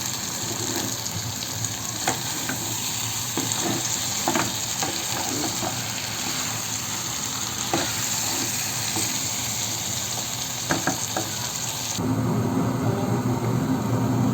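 Duck meat curry fries and is stirred in a pan, giving a loud, steady sizzle with scraping stirs running throughout and a fuller burst of frying near the end.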